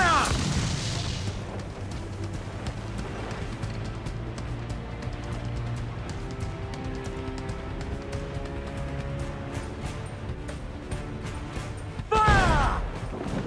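Cannon fire from a pirate ship's broadside in Assassin's Creed IV: Black Flag, deep rumbling booms rolling together under a sustained low roar, with a sharp burst of blasts near the end.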